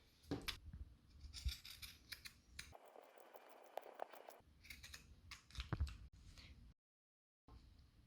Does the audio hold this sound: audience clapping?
no